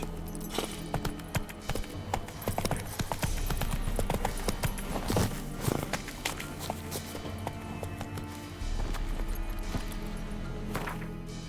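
Geralt's horse Roach galloping in The Witcher 3, a steady rapid clip-clop of hooves close by, loud and continuous with the muffled rumble of motion underneath.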